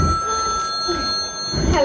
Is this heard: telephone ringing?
yes